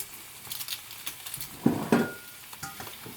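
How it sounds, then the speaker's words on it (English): Sausages frying in a pan for a sausage and lentil stew, a soft steady sizzle with light crackle, punctuated by a couple of louder clanks of a utensil or pan near the middle. "So while those are frying, we're going to prepare our onion and garlic."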